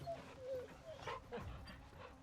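Dog in the video game Final Fantasy XVI giving faint yips and soft whimpering barks, quiet and intermittent over a low game backdrop.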